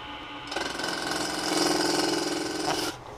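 On a Laguna 12/16 wood lathe, a half-inch bowl gouge cuts a spindle hand wheel at 1300 RPM: a steady, close, rattling buzz that starts abruptly, grows louder midway and cuts off after about two and a half seconds.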